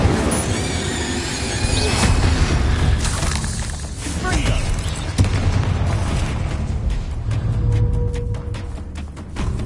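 Fiery Incendio spell blasts in Hogwarts Legacy, a game set in a castle room fight: a dense run of loud booming bursts and crackling impacts over a rumbling bed of combat noise and music, with a voice speaking over it.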